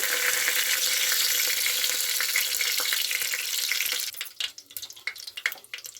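Cardamom, cinnamon and bay leaf sizzle loudly in mustard oil inside a pressure cooker, a dense close hiss for about four seconds that then breaks into sparse crackles and pops.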